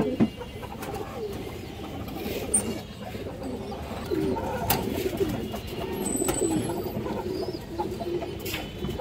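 Pigeons of fancy breeds for sale coo softly and repeatedly in a loft, with low murmuring calls overlapping against a quiet background.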